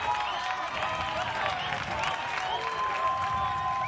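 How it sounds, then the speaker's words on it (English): A crowd at a 2024 WIAA Division 3 state championship baseball game between Kenosha St Joseph and Aquinas cheers and applauds in a steady, dense roar with whistles and shouts mixed in. "Crowd getting into it."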